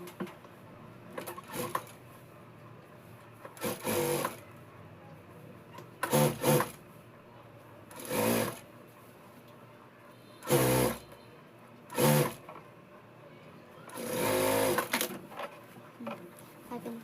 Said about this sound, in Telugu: ఈ లైనింగ్ అనేది ముందు కుట్టేసుకుందాం